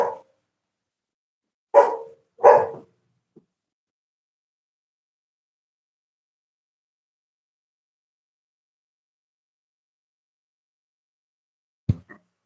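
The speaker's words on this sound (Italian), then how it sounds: "anche dentro il mio cane abbaia." A pet dog barks indoors in a few sharp bursts: one at the start, a close pair a couple of seconds later, then a long silence before a final short bark at the end.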